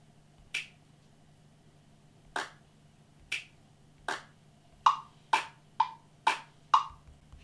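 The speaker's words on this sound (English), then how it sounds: "put out these two claps" Two sampled claps in GarageBand on iPad or iPhone repeat as sharp, dry, isolated hits, spaced at first and then coming quicker in a tight run near the end.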